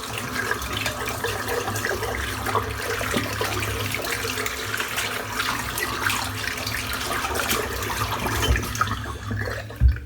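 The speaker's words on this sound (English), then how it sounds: "Give that a good dry out, rinse the soap." A safety razor is rinsed under a running tap after a head shave, water splashing continuously with small clicks and knocks, ending in a brief bump.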